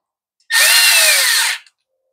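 A power drill runs a single continuous burst of about a second, driving screws down on a Craftsman weed eater, loud and close with a steady whine that dips slightly in pitch as it tightens, then silence.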